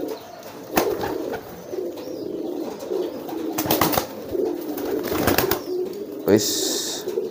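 Racing pigeons coo softly and repeatedly close by, with occasional wing flaps and someone talking over them.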